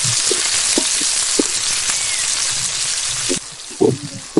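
Country tomatoes sizzle steadily and loudly in a hot pan for biryani, with light clinks and stirring knocks cutting through. Near the end the sizzle drops away.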